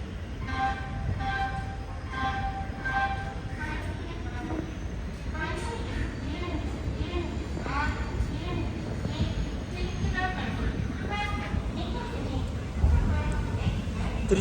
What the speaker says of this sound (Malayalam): തിരുച്ചിറപ്പള്ളി തിരുവനന്തപുരം ഇൻട്രസിറ്റി എക്സ്പ്രസിൻ്റെ അനൗൺസ്മെൻ്റ് ആണ് കേൾക്കുന്നത്